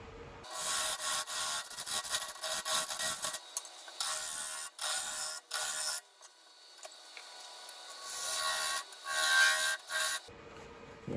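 A gouge cuts a tenon on a spalted sugar maple platter blank spinning on a wood lathe, giving a rough scraping rasp in repeated bursts separated by short pauses, loud and close.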